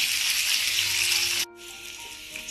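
Onion with salt sautés in a pan for Kerala-style okra stir-fry, giving a steady close sizzling hiss that drops suddenly to a softer sizzle partway through.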